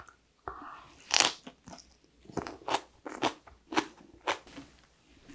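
Someone bites into fresh, unripened napa cabbage white kimchi at close range, with a run of sharp, juicy crunches and chews in an irregular rhythm and no talking.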